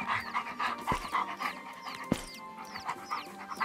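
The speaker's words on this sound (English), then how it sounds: "We've got this dog that needs help." A dog pants steadily in the Animal Rescuer video game, quick rhythmic breaths close by, broken by a couple of sharp clicks and thuds.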